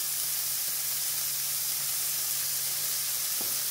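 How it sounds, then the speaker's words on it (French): Onions and shallots sizzle in olive oil in a pan, making a steady, even frying hiss that stays constant and close, with a faint utensil tap near the end. "on peut remettre un petit peu d'huile d'olive pour éviter que ça accroche"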